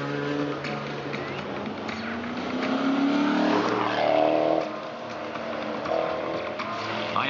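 A large car engine rumbles and revs smoothly, rising and falling in pitch, heard close and moderately loud.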